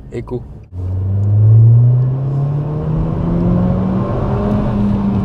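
Nissan Juke Nismo RS driven in eco mode: a low engine rumble rises steadily as the car accelerates, a smooth droning whir that holds loud and close after a brief opening of voices.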